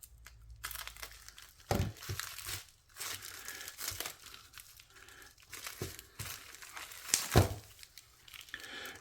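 Crinkling plastic bags and ripping tape on TwoSun TS36 packaging, close and moderately loud, with scattered rustles and a few sharper tearing bursts, no talk.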